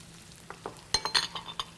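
Onions, carrots and celery sizzle in a pan for a pasta bean bolognese, with a faint steady frying hiss under several close spoon stirs and clinks against the pan.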